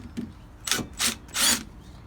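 An impact drill removes a rust-seized bolt from a car's rear brake assembly: three loud, close whirring bursts with rattling, each about a quarter second long, separated by short pauses.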